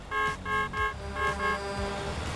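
A city bus horn in the driving game Motor Town, a RoadMaster Sigma bus, sounding a series of about five short, loud toots in a steady rhythm, with engine hum underneath and no talking.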